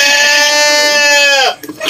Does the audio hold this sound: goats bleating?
yes